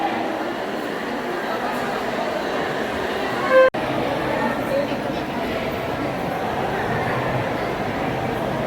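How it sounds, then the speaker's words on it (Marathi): A small mini train at the Saptashrungi temple hill rumbles steadily as it arrives, with a short horn toot partway through over constant background noise. "ट्रेन आलेली आहे वरून छोटी मिनी"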